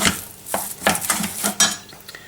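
Choux pastry dough beaten vigorously with eggs in a bowl, producing a rhythmic series of wet slaps and scrapes at about two strokes per second, close and fairly loud.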